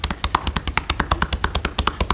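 Cupped-hand percussion knocking on bare skin during a seated chair massage, a fast, even train of hollow thumps repeating several times a second, close and clear with no talking.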